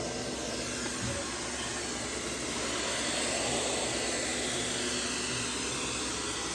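A robot vacuum cleaner running as a mop gives off a steady, broadband whirring hiss that stays constant and fairly faint throughout.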